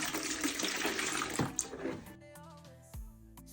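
Hot water splashes and swirls as it is stirred and poured for soaking a wig, ending in a brief gurgle and trickle, close by.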